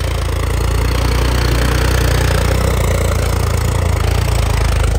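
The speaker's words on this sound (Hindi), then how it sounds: "आरपीएम ड्रॉप जरूर करेगा फिर चलेगा" A John Deere 5310 tractor engine with a 25 hp upgrade runs steadily and loudly nearby, a continuous low diesel drone with a mid-range clatter, and no voices over it.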